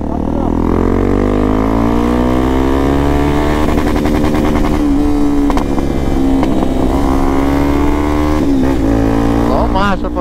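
A Honda XRE 300 motorcycle fitted with a Doré exhaust revs at night, its engine note rising and falling in loud, close, raspy pulls that cut briefly near the end, with voices now and then under it.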